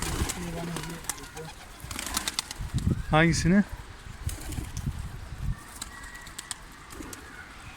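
Pigeons coo in low, throaty bursts inside a coop amid rustling and a brief flurry of flapping wings, while someone speaks briefly nearby.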